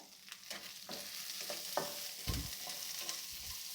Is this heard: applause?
no